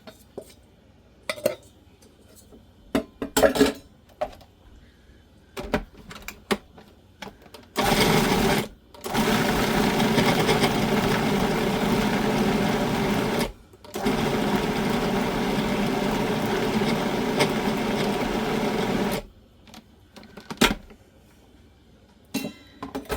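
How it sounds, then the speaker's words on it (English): A food processor chops chunks of meat for pumpkin chili, running in loud whirring bursts of a few seconds each, with short clatters and clicks of the bowl and lid between them. "So I'm just go ahead and putting these in the food processor."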